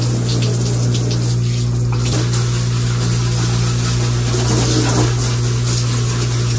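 Running water streams steadily from a tap or hose as new plants' leaves are washed, a constant close gush over a low mechanical hum, with no talking.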